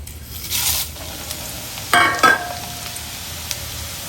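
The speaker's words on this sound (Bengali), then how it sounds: "এই যে আমি চিড়াটা এখন ভেজে নেব।" Flattened rice (chira) frying in a pan for homemade chanachur, with a soft, faint sizzle and two brief louder bursts of rustling and scraping as it is tossed, no talking.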